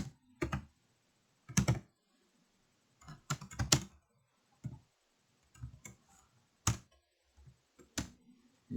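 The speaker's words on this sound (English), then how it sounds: "Let's see if I can type here." Keys on a computer keyboard tapped in short irregular bursts of clicks with pauses between, close and moderately loud, no voices.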